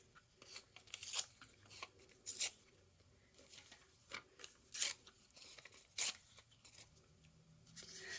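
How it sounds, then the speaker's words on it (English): Music sheet paper is torn into smaller scrap pieces by hand, a series of short, close ripping bursts spaced irregularly with quiet pauses between them, no talk. "I'm going to go ahead and tear up some smaller pieces with this"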